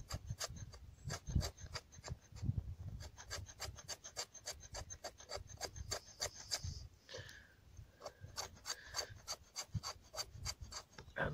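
The back of a survival knife scrapes wood into fine shavings outdoors during wild camping, producing a long run of rapid, rhythmic rasping strokes, fairly soft but close, with a brief pause partway through.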